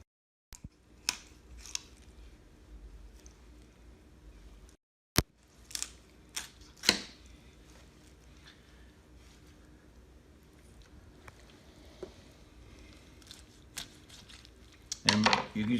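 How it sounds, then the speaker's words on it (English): A good knife cuts down each side of the back of a whole chicken, giving sparse, close crunching snaps through bone and cartilage with quiet gaps between them, and a louder scrape at the end. "So I'm going to cut down on each side of the back."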